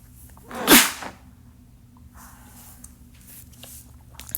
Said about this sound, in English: I thought I got to sneeze.